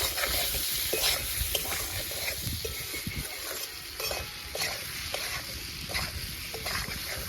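Potatoes with salt and turmeric are stirred in a frying pan, a close, steady sizzle broken by repeated scraping strokes of a spatula at a fairly even rhythm, with no talk.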